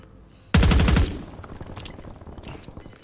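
Gunfire in the video game Warzone: a loud, close automatic burst of rapid shots lasting about half a second, followed by softer scattered distant shots and game noise.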